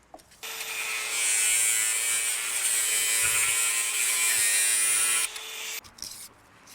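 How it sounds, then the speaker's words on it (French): A gutter pipe is sanded with a steady, loud whirring drone lasting about five seconds. The sound stops abruptly and is followed by a few light handling clicks, with no voices. "On ponce toujours un petit peu"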